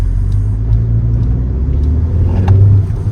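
A 2023 Kia Seltos GTX+ with a 1.5 turbo petrol engine and 7-speed dual-clutch gearbox accelerates hard. A deep, loud engine drone and road rumble fill the cabin and rise slightly toward the end, with no talking.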